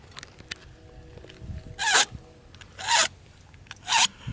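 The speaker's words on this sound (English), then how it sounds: "You can probably hear the little vibration, chatter noise. That's cutting off the serrated part of the blade." Carbide sharpener drawn through the serrated edge of a butter knife, giving three short, loud rasping strokes about a second apart over low background noise.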